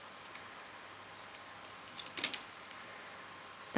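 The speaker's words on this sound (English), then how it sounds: "Now with your scissors, you're going to want to make sure that the remaining ribbon is about the same length." Scissors trim a length of ribbon on a wrapped Christmas present, a few soft, close snips and small handling sounds over a quiet room.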